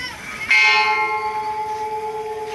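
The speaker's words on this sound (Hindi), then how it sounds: "हम इस समय घंटी के पास पहुंच गए हैं, यानी कि घंटा बोलते हैं जिसे।" A large bell at the Bharat Kund temple is struck once, loud and close, and its bright metallic tone rings on and slowly fades.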